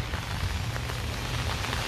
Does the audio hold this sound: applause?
no